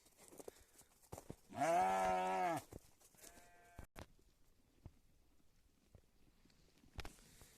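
Sheep and lambs bleating on a village farm, one loud sustained bleat near the start followed by a shorter, fainter call and scattered distant bleats among light background noise.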